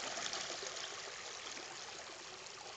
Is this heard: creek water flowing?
yes